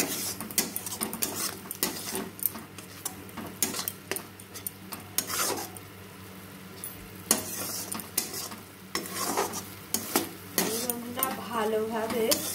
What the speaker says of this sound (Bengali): এবার আমি যে পালং শাকটা পেস্ট করে রেখেছিলাম সেটা কড়ার মধ্যে দিয়ে ভালো করে একটু নাড়াচাড়া করে নেব